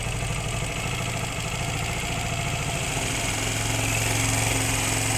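A Suzuki GR150 motorcycle engine idling at its factory air-fuel setting, a close, continuous chugging drone that stays even and steady.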